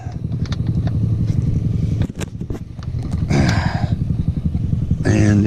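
A 4WD truck engine revs hard in thick mud, the drivetrain straining under load with a steady, loud rumbling drone broken by brief surges and a short dip near the middle.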